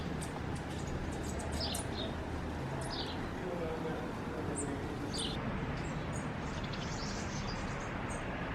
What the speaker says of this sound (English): when it's quiet like this, like right now, and you just hear the birds